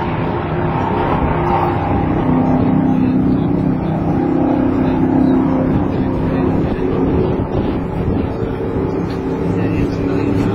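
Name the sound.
race car pushed down pit road, video game Mario Andretti Racing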